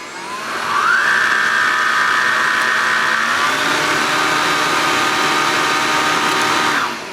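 A Bosch Athlet Pro Animal cordless upright vacuum cleaner runs on turbo, its motor spinning up quickly into a steady, fairly loud whine that holds evenly for several seconds before winding down at the end, with no talking.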